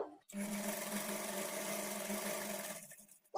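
A sewing machine runs one continuous, close whirring burst of about three seconds while stitching a trouser seam on chudidar pants, starting and stopping abruptly.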